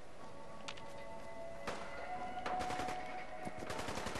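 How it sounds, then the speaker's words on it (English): Gunfire in Fallout 4, bursts of rapid shots and single cracks against a steady game background, fairly faint and somewhat distant. "Here are gunshots."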